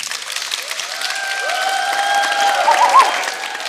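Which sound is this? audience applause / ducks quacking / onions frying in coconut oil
audience applause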